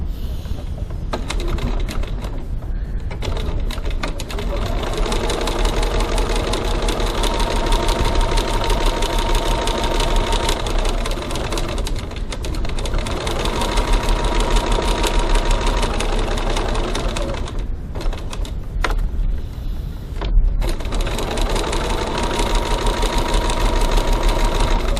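A sewing machine top stitches a wallet panel with a steady, fast mechanical chatter that runs almost continuously at close range, broken by a few short pauses, with no voices.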